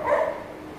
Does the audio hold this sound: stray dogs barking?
yes